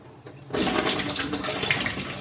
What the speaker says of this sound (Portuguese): Agora eu vou lavar uva, que é a única fruta que tem agora.